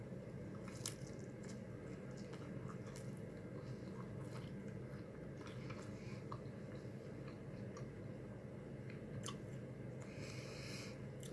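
Tacos being chewed close to the mic in a mukbang, with a steady wet, squishy mastication texture and scattered soft clicks and bites throughout, no talking.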